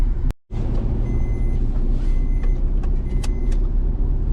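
A car idles and rolls in at a busy roadside gas station queue, a loud, continuous engine rumble close by with faint beeps and clanks behind it.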